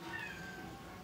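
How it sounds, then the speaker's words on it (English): A cat meows once in a drawn-out, wavering cry from behind a door at home, faint and somewhat muffled, with no voices over it. "Let that cat in."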